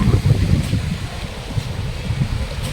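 Steady wind buffets the microphone with low rumbling gusts during a storm, continuous throughout and fairly loud, with no other clear sounds.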